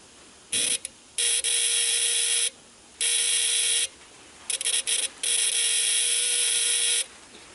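A small electric buzzer from a scrap-built electronic game sounds in several bursts, short and long, with a steady harsh drone and silent gaps between.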